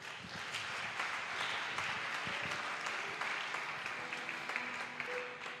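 A church congregation applauding Jesus during a worship service, dense continuous clapping from many hands filling the room at moderate distance, steady throughout with faint voices mixed in.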